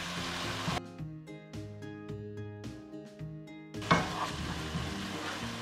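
Tomatoes with a quarter teaspoon of garam masala sautéing in a pan for tomato rice, giving a steady close sizzle broken by a few soft stirring scrapes, with no voices.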